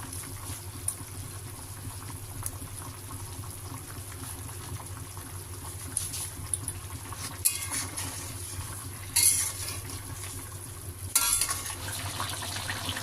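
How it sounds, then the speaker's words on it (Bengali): Water simmering in a pot of jackfruit and prawn curry after fried prawns go in, a low steady bubbling hiss with a few sharper clinks and splashes near the end. "জল ফুটে গিয়েছে, এখন আমি ভেজে রাখা চিংড়িগুলো দিয়ে দেব"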